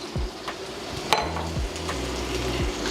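Andouille sausage pieces sizzling in a hot pan, a soft steady hiss with a few light scrapes and clicks as they are moved around, close and fairly quiet, no talking.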